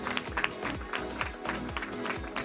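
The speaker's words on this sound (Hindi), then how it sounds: "अतुल जी के लिए जोरदार तालियां हो जाए" Applause at a film press conference for The Kashmir Files, a short burst of scattered hand claps from a modest crowd, fairly faint and uneven.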